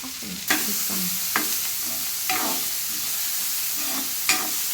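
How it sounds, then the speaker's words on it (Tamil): Onion and grated carrot sautéing in a pan for rava idli, a steady close sizzle broken by several sharp spatula scrapes at regular intervals. "இதை நல்லா இப்படி வதக்கிக்கலாம்"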